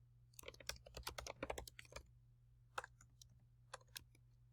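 Typing on a computer keyboard in quick, close clusters of soft key clicks, followed by sparse single taps after a pause, faint over a low steady hum with no talking.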